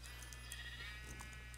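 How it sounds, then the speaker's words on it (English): A Minecraft sheep bleats once or twice, soft and somewhat distant, over a steady low game hum with no talking. "Sheep, shut up."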